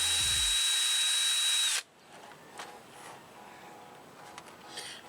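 A power drill whines loudly at a steady pitch for nearly two seconds while drilling holes in a Nissan Kicks front splitter, then cuts off, leaving quiet room noise with faint knocks.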